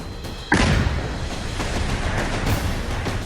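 Blast destroying a house, heard as a sudden loud boom that gives way to a sustained, rumbling roar of debris and noise.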